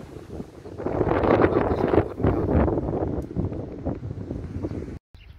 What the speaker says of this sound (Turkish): Nasıl bir rüzgar var?